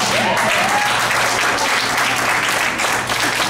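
An audience at a school board meeting claps loudly and steadily, a dense wall of hand claps filling the room throughout without pause.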